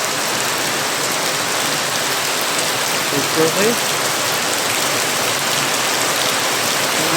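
Heavy rain pours in a constant loud hiss during a typhoon at a durian farm, with a brief spoken word partway through.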